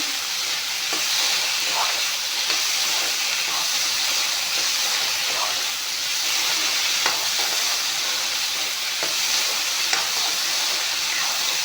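Food frying in butter in a pan gives a loud, continuous hiss with scattered crackles and occasional stirring scrapes, steady from start to finish with no voices.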